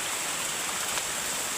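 Heavy monsoon rain pours down steadily in a rural Sambalpur setting, a dense continuous hiss with no breaks.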